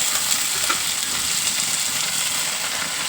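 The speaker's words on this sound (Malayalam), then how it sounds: "നമ്മുടെ കഴുകി വാരി വെച്ച മുരിങ്ങയില ചേർത്ത് കൊടുക്കാം" Washed drumstick (moringa) leaves stir-fry in a hot pan, giving a steady, even sizzle that carries on close by for the whole stretch, with no one talking.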